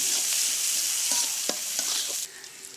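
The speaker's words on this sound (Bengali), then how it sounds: "তেজপাতা দেব, গরম মশলা দেব, দিয়ে কিছুক্ষণ লাল লাল করে ভেজে নিব।" Bay leaves and garam masala frying in hot oil for a potato, egg and pointed gourd curry, a steady bright sizzle with a few spoon scrapes and stirs, dropping quieter near the end.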